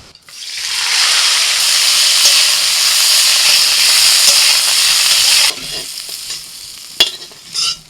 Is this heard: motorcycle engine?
no